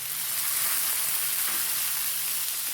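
Onion and two medium tomatoes sautéing in a pan, a steady close hiss of frying that runs unbroken and fairly soft, with no voices.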